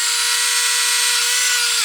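A Tamiya 74041 handy drill runs steadily with a small drill bit, a continuous high-pitched motor whine close up that holds an even tone throughout and drops slightly at the very end, with no talking.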